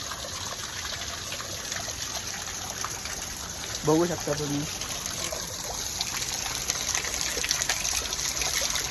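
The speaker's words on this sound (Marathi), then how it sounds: "थंड पाणी, एकदम स्वच्छ असं खळखळणारं पाणी." Steady rushing water pours from a stone spout into a temple tank at an old temple near Bhor, Pune, running throughout while a person speaks briefly over it.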